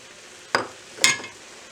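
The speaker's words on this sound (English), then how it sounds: "I'm going to put my onions in" Onions going into a pot with minced garlic for chicken gnocchi soup, giving two brief sizzling bursts as they hit the hot fat, each followed by a fading crackle, fairly close with no talk.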